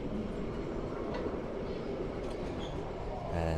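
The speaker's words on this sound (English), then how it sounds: "as the loco heads out the station again" A 7 1/4 inch miniature railway locomotive pulls out of the station, a steady rumbling run of wheels and track noise held at an even level throughout.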